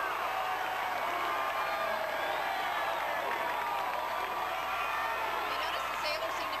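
Crowd lining the 1991 Seattle Seafair Torchlight Parade cheering and chanting as Navy units pass, a steady distant roar of voices with faint applause, heard under close talking.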